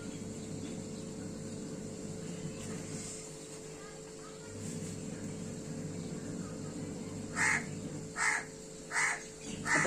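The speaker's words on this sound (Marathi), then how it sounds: "आता बघा तो कावळा आला." A crow near a home kitchen where bajra bhakri is being made gives four loud, sharp caws in quick succession near the end, following a stretch of steady low background hum.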